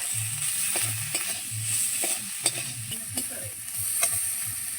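Pointed gourd tossed with salt and turmeric in a hot pan, a spatula scraping and stirring in steady strokes over a continuous soft sizzle of frying, close and without speech.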